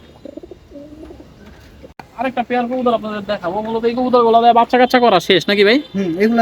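Lalbag pigeons coo in soft, low bursts near the start, then keep murmuring under a man's loud, steady talking for the rest of the clip.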